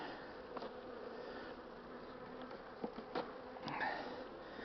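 Honeybees in an opened hive make a soft, continuous hum, with a few individual buzzes passing close by; the sound is quiet, with no voices.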